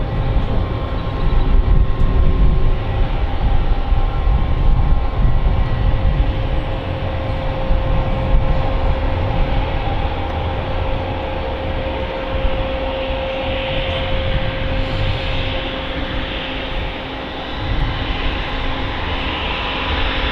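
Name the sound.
Emirates Boeing 777 taxiing at Manchester Airport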